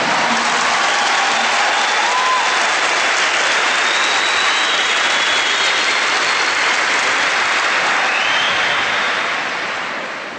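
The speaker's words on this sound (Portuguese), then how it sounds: "Give the Lord the biggest clap for that." A church congregation claps loudly and continuously during a Mass, a dense, even wall of applause lasting about ten seconds before easing off slightly at the end.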